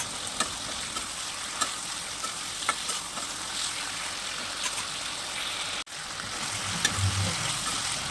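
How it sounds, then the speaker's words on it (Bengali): Chicken coated in Kashmiri chili paste sizzles in a pan for a village-style chicken jhol, with a steady close frying hiss and periodic scraping knocks of a spoon stirring it, briefly broken by a sharp gap. "এবার চিকেনটা ভালোভাবে নাড়া হয়ে গেছে"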